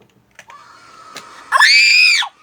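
A character in the Roblox elevator game lets out a loud, sustained scream after a thin tone and a few soft clicks, cutting off abruptly.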